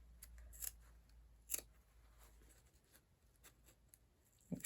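Scissors snip through fabric for a laptop case in a quiet room, with a few crisp, separate cuts spaced irregularly and soft handling sounds between them.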